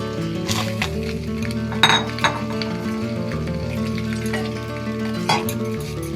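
Meat frying in a pan with a splash of water added sizzles steadily and close, punctuated by occasional clinks of a utensil against the pan.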